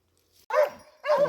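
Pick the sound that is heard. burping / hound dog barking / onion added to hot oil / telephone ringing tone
hound dog barking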